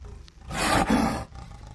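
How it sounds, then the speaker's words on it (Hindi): A leopard lets out a single loud, close roar that swells and falls away over about a second, alone without any talking. "और वही दहाड़ कुछ ऐसी।"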